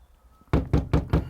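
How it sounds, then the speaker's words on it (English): Four firm knocks on a bottle of thick bait booster, evenly spaced and close, each a short dull thud, with no talk over them. "Give it a bit of a knock, fill it back up."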